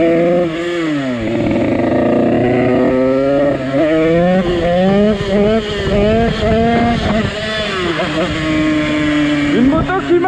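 A motorcycle engine runs loudly and steadily up close, its pitch rising and falling with repeated throttle changes throughout.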